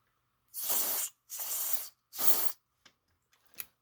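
Cleaner sprayed into a small gap of a cordless hand vacuum makes three strong, close hissing bursts of about half a second each, followed by a couple of faint short sprays.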